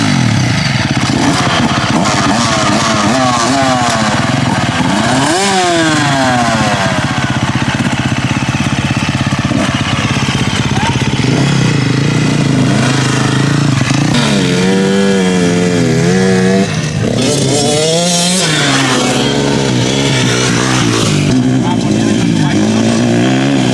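Motorcycle ride through desert sand with the engine revving and labouring continuously, pitch rising and falling as the bike floats and slides, loud and close, with a voice talking over it at times.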